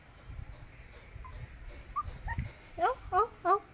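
A puppy whimpers in a few short high-pitched whines, the last three coming in quick succession near the end, with faint background noise and low murmuring before them.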